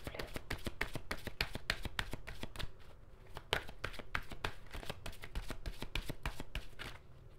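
Tarot cards being shuffled by hand, a rapid run of crisp riffling slaps and flicks going on steadily for several seconds with a short lull midway, close and fairly quiet, no talking.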